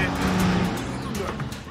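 A cartoon car rolls past on a busy animated road, a brief engine swell under other busy sounds and a voice.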